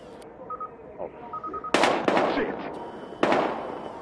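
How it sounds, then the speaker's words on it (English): Gunfire in the video game Battlefield Hardline, three loud sharp gunshot cracks with echoing tails following a few faint electronic beeps. "We've got gunshots."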